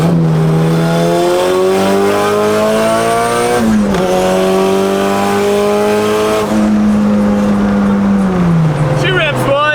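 A turbocharged Honda Civic EG accelerates hard, its loud engine note climbing steadily through the gears with audible shifts between pulls, heard up close throughout.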